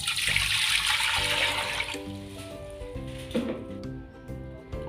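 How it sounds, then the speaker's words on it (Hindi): Water pouring from a container into a pressure cooker sitting on a stove, a steady gushing splash that eases off into lighter trickling and gurgling inside the pot. "इसमें मैंने 1 किलो पानी डाल देना है"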